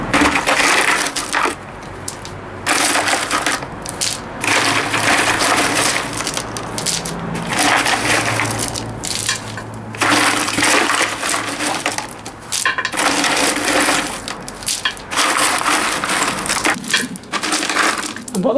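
Decorative pebbles are poured around a freshly repotted plant as mulch, making repeated loud bursts of rattling, crunching stone separated by short pauses.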